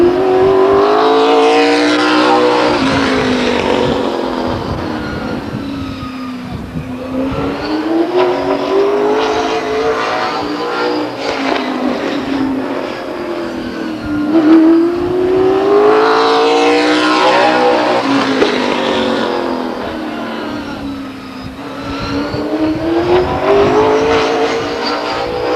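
Late model stock race cars lapping Stockton 99 Speedway, engines rising and falling in long cyclical swells as the pack roars past, loud and continuous with tire noise throughout.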